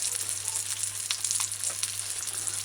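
Steady crackling sizzle of oil frying fish patties, soft and continuous with scattered pops, close by and without voices.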